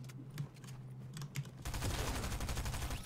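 SMG fire in Fortnite, starting with scattered quieter shots and game clicks and then turning into a dense, rapid full-auto burst that fills the second half, fairly quiet overall, with no voices.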